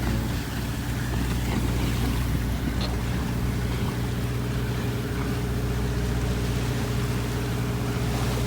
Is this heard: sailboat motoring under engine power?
yes